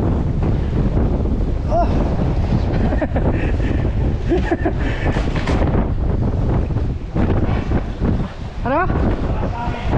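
Strong wind buffets a small boat out at sea, roaring loudly and continuously over rushing water, while people on board call out to each other in brief shouts.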